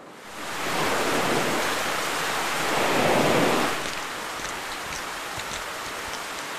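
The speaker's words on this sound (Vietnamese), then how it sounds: "Mưa bão thế này, chắc đường xa lụt lội." Heavy storm rain roars in a broad, steady wash that swells louder in the middle before easing to a softer, continuous downpour, with no voices over it.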